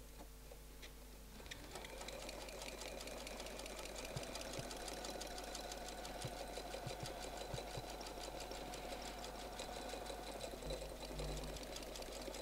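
A domestic sewing machine quilting feathers with templates runs in a fast steady mechanical whir with rapid needle ticking, close and continuous after starting up about a second and a half in, no talking.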